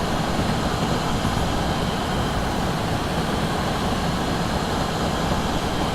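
A train runs along the track on the South Wales Coastal route, Taunton to Cardiff, in Train Simulator, a steady, loud, broadband rumble and roar that holds unchanged the whole time with no talking.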